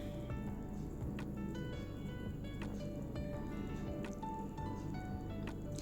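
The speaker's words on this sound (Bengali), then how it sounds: "আঙুরগুলো আমি ওই পাত্রের মধ্যে ঢেলে নিলাম।" Sliced grapes are poured into a bowl for a fruit custard, giving a soft, continuous wet squishing and tumbling with a few small drips and clicks, faint and close, with no speech.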